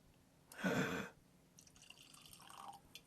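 Drink poured from a bottle into a regular glass, a short close burst of liquid splashing and gurgling lasting about half a second, followed by quieter faint sounds.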